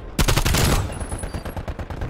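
A loud burst of rapid video game gunfire from a sniping match, dense and close, then quieter clatter and fading shots.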